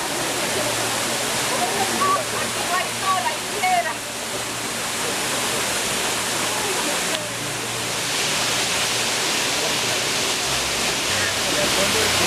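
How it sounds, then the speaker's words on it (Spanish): Las Lajas waterfall in Supata roars as a loud, continuous broadband rush of falling water, close and steady throughout, with people speaking over it. "Parece una cascada."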